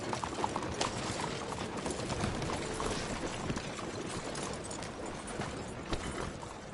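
Horse hooves clip-clopping at a steady trot in Red Dead Redemption 2, a continuous dense rhythm of hoofbeats close by with no talk over them.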